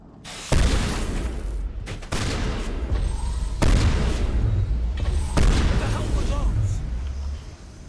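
Heavy weapons fire booms in a Mass Effect firefight, several loud blasts and rattling bursts landing at irregular intervals over a continuous roar of battle noise.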